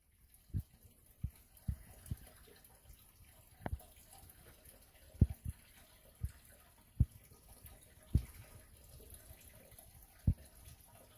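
Water in a gas water heater during a home replacement job, heard as sparse, irregular drip-like knocks and taps, roughly one every second or so, fairly close and moderately loud against a quiet background.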